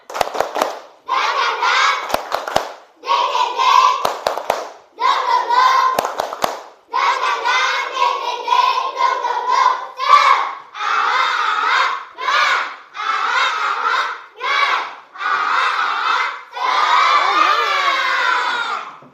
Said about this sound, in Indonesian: Kita tepuk semangat dulu boleh?